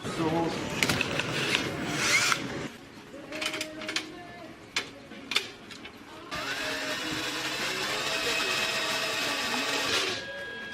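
A power drill whirs in short bursts while drilling holes for a drift car tube front, then runs in a long continuous grind, with clatter and knocks of tools in between.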